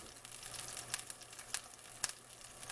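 A tuna steak sears in a hot pan with a steady, fairly quiet sizzle and crackle, dotted with a few sharper pops, heard close and without voices.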